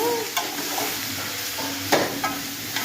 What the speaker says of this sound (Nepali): यसरी चलाउँछु त म हालेपछि चाहिँ लोकलको मासुलाई मजाले चलाउनुपर्छ।